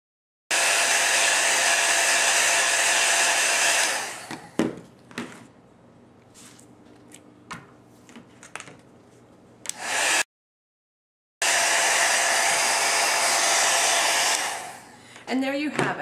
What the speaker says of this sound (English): Give it a little bit of the heat gun.